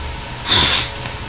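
A single loud, close sneeze bursts out sharply in the middle of a brief indoor moment, rising and cutting off quickly against a low background hum.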